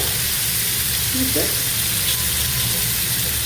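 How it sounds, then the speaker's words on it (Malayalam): Chettinad-spiced, masala-coated fish frying in a pan over a medium flame, a steady close hiss of sizzling oil running the whole time with a faint brief tone partway through. "മീഡിയം ഫ്ലെയിമിൽ ഒരു 5 മിനിറ്റ്സ് ഫ്രൈ ചെയ്യുക. 1 സൈഡ് ഫ്രൈ ചെയ്യുക."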